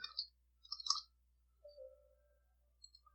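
A computer mouse clicks and keys tap while Start is opened and regedit is typed, a few faint, sparse clicks close to the mic over near silence.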